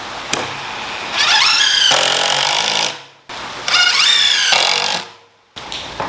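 A power saw cuts through wood in two loud bursts, each whining up as the blade bites and then spinning down, with a short pause between them and no talking.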